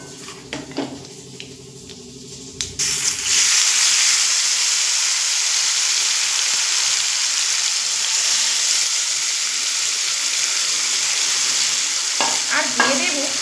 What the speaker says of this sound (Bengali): এবার এখানে যে মাছ আমি রেখেছি মাখিয়ে সেই মাছ আস্তে আস্তে করে তেলের মধ্যে দিয়ে দেব।